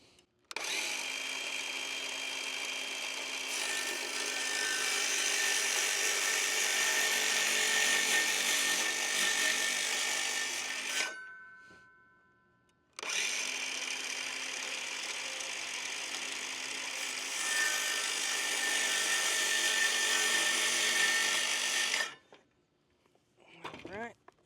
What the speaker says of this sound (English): I'll finish it with the jigsaw.